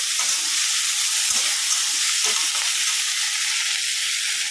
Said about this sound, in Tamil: இது நல்லா வதங்கட்டும் உப்பு போட்டிருக்கோம் நல்லா கொஞ்சம் நேரத்தில் வதங்கிடும்